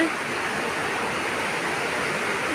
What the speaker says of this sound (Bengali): বৃষ্টি পড়তেছে বাইরে,